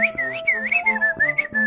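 A person at home whistles a short wavering tune, clear and close, the notes sliding up and down in quick uneven phrases.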